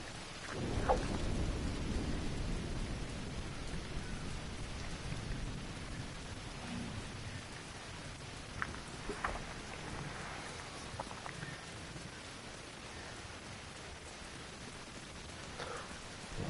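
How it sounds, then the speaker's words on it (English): Rain and rolling thunder in the video game The Division 2, a soft, steady patter of raindrops with a low thunder rumble early on and scattered drip ticks, fairly quiet and without talk. "Oh, it's raining out again."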